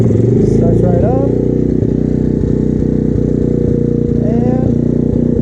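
A rebuilt Honda XR/CRF 70 motorcycle engine bored to 82cc runs loud and close at a steady, lumpy idle with a couple of brief throttle blips, and a voice speaks over it.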